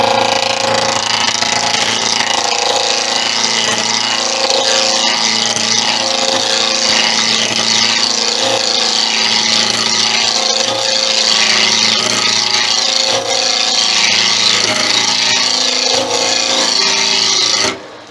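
Wood lathe spinning at about 1700 rpm while a gouge rounds off a wooden snowman, giving a steady loud scraping, rasping hiss with a constant motor hum, continuous throughout and stopping abruptly at the end.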